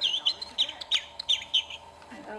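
Bright bird chirps repeat in quick, uneven bursts, close and clear, during a children's book reading.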